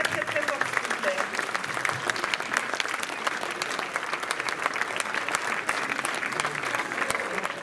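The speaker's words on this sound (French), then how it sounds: "Vous pouvez les applaudir très très très très fort, s'il vous plaît." Loud, dense applause from a live audience at a French talent or music show, steady and continuous throughout, with a few voices cheering and calling out over the clapping.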